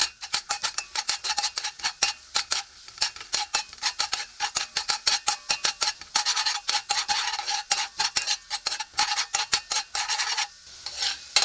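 Ginger sautéing in a pan for egg tinola is stirred steadily, giving a fast, rhythmic run of close scraping strokes against the metal over a soft sizzle, with no voices.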